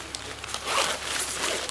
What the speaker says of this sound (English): So if I undo this zipper here